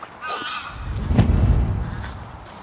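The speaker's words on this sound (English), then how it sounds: "Apparently just geese." Loud, harsh goose honks, a few raspy calls in a cluster, close by and unaccompanied.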